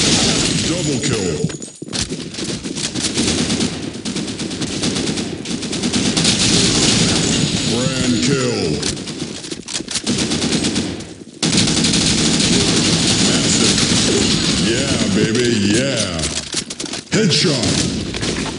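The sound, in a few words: gunfire in video game Blackshot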